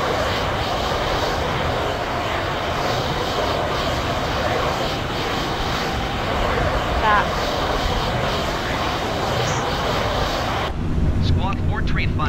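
An airplane's engine in Microsoft Flight Simulator, flying around Dublin, hums and roars as a steady, loud, broad drone that runs unbroken before cutting off sharply near the end.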